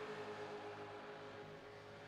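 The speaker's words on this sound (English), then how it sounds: "You can hear these cars going over the bumps, man. Just revving it as hard as they can." A loud, steady engine drone with a slight wavering pitch comes from V8 Supercar race cars at full throttle over bumps on the Daytona circuit.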